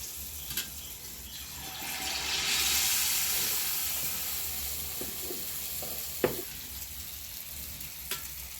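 Hot oil sizzles in an unniyappam pan with a continuous hiss that swells partway through, with occasional sharp clicks and taps from the pan, and no one speaking.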